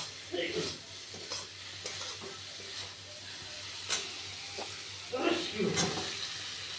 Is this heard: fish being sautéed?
yes